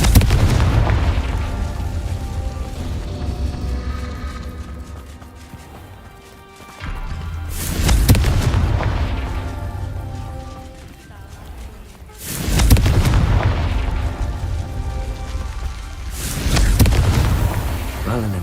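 Fire-blast spell explosions in a Hogwarts wizarding video game, three loud booming blasts about five seconds apart, each swelling out of a rumbling, crackling bed of game sound and music.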